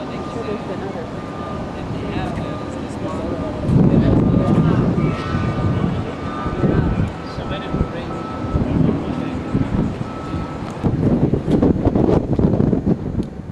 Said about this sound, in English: Does everybody get the feel of the wind now?